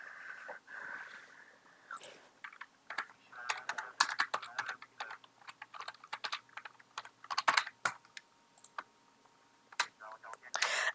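Fast typing on a computer keyboard during a flight-simulator session, with bursts of crisp close key clicks and short pauses, quiet and alone.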